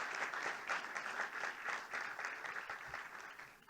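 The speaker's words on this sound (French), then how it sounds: "Vous pouvez l'applaudir, Pierre Régnier, qui nous rejoint sur scène." Audience at an awards ceremony applauds as a prize winner walks on stage, dense clapping with a rhythmic pulse that fades toward the end.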